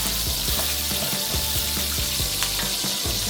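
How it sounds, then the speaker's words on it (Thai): Chopped onion stir-fried in hot oil with fried minced garlic in a pan, a steady loud sizzle with rhythmic scraping strokes of the spatula throughout. "ใส่หอมใหญ่ลงไปผัดเพื่อให้ความหวานของหอมใหญ่เนี่ยออกม"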